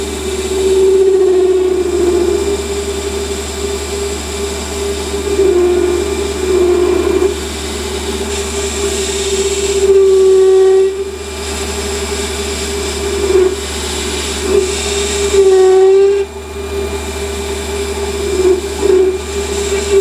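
A lathe turns a thread undercut into a threaded adaptor, a steady low motor hum with a whining tone from the cutting. A few brief dips and tonal shifts come as the tool engages and backs off, with no talk over it.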